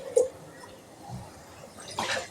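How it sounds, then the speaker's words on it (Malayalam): Water poured into a simmering ash gourd and tomato curry on a home stove gives a brief liquid splash near the end, with faint kitchen clatter before it. "ഒരു തുള്ളി വെള്ളം കൂടെ ചേർക്കാം."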